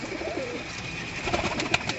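Pigeons coo in a loft of racing pigeons in Amritsar, low murmuring calls overlapping for about two seconds alongside faint chirps, close and moderate in level, with no one talking.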